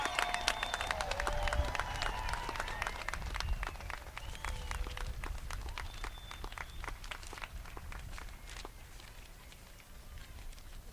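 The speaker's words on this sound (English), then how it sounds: "give the biggest round of applause, standing ovation to the class of 2021" A graduation crowd applauds and cheers for the class of 2021, with dense clapping and scattered whoops that stay steady for several seconds and then taper slightly, with a few faint voices mixed in.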